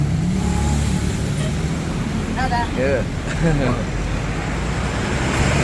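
A Tiara Mas Master Class intercity bus in NTB rolls through traffic, a steady low engine and road rumble from inside the cabin, with brief voices and a few short chirps heard over the continuous drone.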